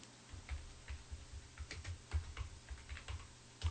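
Catalog name typed on a computer keyboard, a quick uneven run of light, close key clicks with short pauses between bursts, heard alone at low volume.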